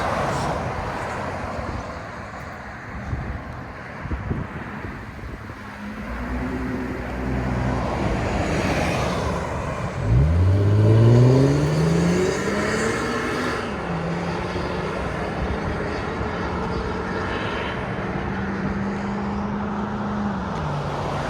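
A 2008 Lexus IS 250 with its 2.5L V6 and a Valvetronic Designs universal muffler, valves closed, idles with a low muted burble, then revs up with a rising droning note and settles back to a steady hum.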